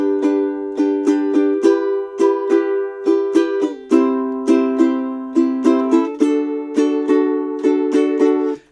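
Ukulele strummed in an island pattern of down, down, up, down, up, bright steady chords repeating for several bars at close range, with no voice.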